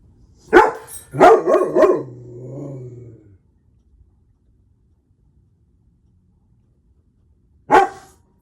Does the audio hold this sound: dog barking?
yes